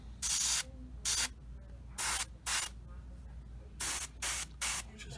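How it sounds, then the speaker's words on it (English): An Iwata HP-M2 airbrush sprays paint onto a 1/35 Tamiya Sd.Kfz. 250/3 Greif model kit in short hissing bursts, about eight quick close blasts separated by brief quiet gaps. "Which is a pretty jolly airbrush for doing this kind of stuff."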